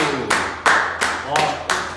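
A few people clapping hands in a handful of distinct bursts, close and fairly loud, recorded during an Instagram live broadcast with a voice mixed in.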